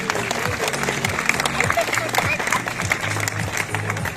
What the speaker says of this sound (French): on peut l'applaudir bien fort à Nelly.